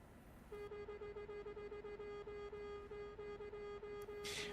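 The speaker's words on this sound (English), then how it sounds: "I love honking my horn." Truck horn in the Euro Truck Simulator 2 game sounding as one long, steady honk that holds for about four seconds, loud and alone apart from faint game engine noise.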